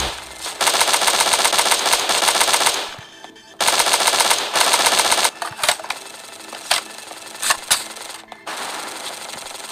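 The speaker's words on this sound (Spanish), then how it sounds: "Aquí todo el mundo utiliza el disparo automático, por lo que veo" Automatic gunfire rattles through a shooter match in the video game Battle Forces, long dense bursts of rapid shots with a brief pause, then shorter volleys and scattered single cracks, loud and with no talking.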